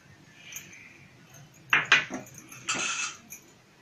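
A spoon clinks and scrapes against a bowl while mixing vegetable bread-pizza topping, with a few sharp metallic knocks and a longer scrape between quieter pauses.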